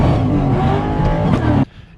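Manual Ford Mustang engine held at wide open throttle with the clutch pressed, roaring loud and steady at redline, then cutting off abruptly near the end.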